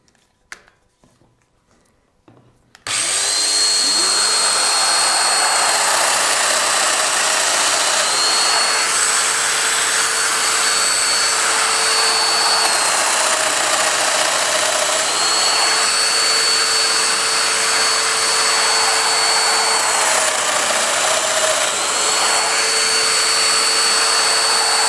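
A Festool Domino DF 500 joiner switches on and cuts a butted panel joint, a sudden start into a loud, steady motor whine and airy roar that holds unbroken for over twenty seconds.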